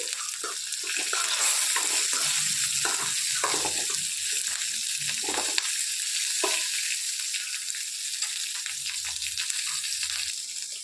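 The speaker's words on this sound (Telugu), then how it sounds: "మిర్చి అనేది మంచిగా ఫ్రై అయిపోయిందండి" Continuous loud sizzling of green chillies frying in a hot pan for coriander-tomato chutney, with occasional stirring scrapes and crackles throughout, no voices.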